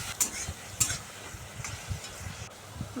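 Spice paste being sautéed with onion and a little sugar in a pan, no oil, for a rohu fish curry with vegetables: soft stirring scrapes and a quiet sizzle, with a few sharper utensil clinks, close and low.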